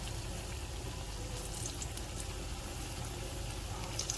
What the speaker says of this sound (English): So this has been frying for about 5 minutes.